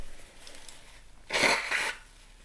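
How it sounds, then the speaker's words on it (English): A single close, sharp human sneeze bursts out midway through a quiet indoor tarot reading, brief and loud against faint background hiss, with no speech around it. "That sneeze got everything moving apparently."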